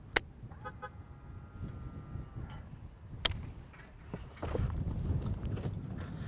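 A Tesla Model 3 unlocks with a key card, giving a sharp click followed by a short chirp-like tone and another click, with faint outdoor street noise behind.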